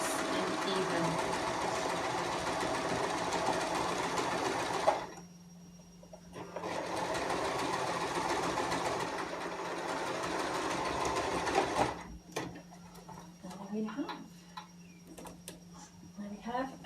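Sewing machine stitching the hem of a girl's dress, running in two steady bursts of rapid mechanical ticking separated by a short pause, then stopping, with a voice talking over it.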